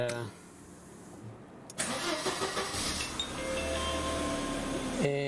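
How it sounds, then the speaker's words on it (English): A Mercedes 190E W201 with a 2.0 engine cranks briefly and fires up, settling into a steady close idle hum, with a high whine and light clinks as a voice speaks over it. "Okay, gonna get the car running"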